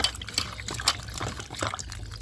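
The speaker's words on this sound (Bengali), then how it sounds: "এবার আমি ভালো করে ধুয়ে নেব।" Thinly cut potato strips are rinsed in water, with a busy close splashing and trickling as hands work through them, and brief louder slops in between.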